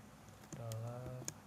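Keys clatter on a computer keyboard as a password is entered, a short burst of light, close taps with a faint tonal hum beneath.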